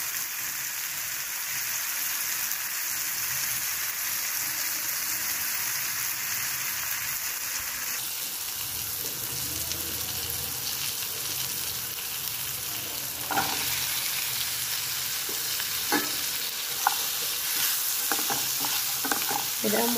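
Onion, tomato and curry leaves frying with salt in a pan, a steady crackling sizzle like light rain, later joined by occasional sharp clicks and scrapes of stirring, close and even.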